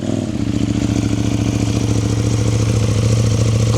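A KTM 790 Duke motorcycle, still running after a crash, catches and settles into a loud, close, steady idle with an even pulsing beat and no voices over it.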